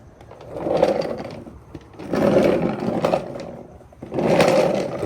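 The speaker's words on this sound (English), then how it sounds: "I'm gonna jack this up enough" Floor jack raising a Porsche 911 being prepared for a K24 engine build, heard as three separate surges of grinding, roaring mechanical noise with short pauses between, close and fairly loud.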